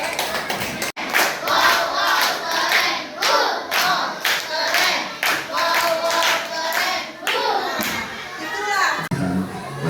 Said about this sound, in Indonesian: tepuk tangan buat kelompok yang sudah menjawab B